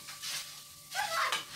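A potato lentil stew sizzles softly in a pot, with light stirring and scraping noises that rise briefly near the end, fairly quiet and close.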